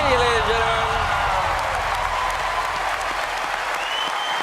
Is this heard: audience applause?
yes